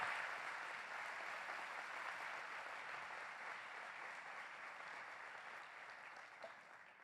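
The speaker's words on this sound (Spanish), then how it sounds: "Él merece un aplauso más fuerte." A church congregation applauding, a steady, even wash of many hands clapping together that holds for several seconds, heard from a distance and fading slightly toward the end.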